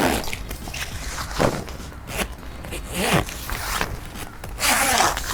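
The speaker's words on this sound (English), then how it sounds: "Now this is the zip that is on the actual caravan connector" A zipper is pulled along the connector panel of an Oztent RV caravan, several short rasping zip strokes in bursts, close by, with fabric rustling between them.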